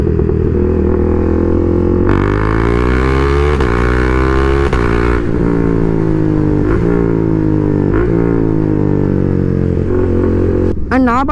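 A stage 2 tuned KTM Duke 390 motorcycle engine revs loudly and continuously up close, pitch rising and falling through several throttle blips and shifts, ending with a sharp high rev.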